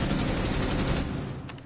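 Rapid bursts of gunfire from a team-based shooter video game, dense and loud throughout before thinning slightly at the end, with no talk over it.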